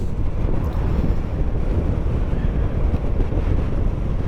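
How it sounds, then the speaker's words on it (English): Strong wind buffets the microphone during a ride through English countryside near Withersfield Green, a loud continuous low rumble and roar that gusts slightly without letting up. "That wind's picking up as well."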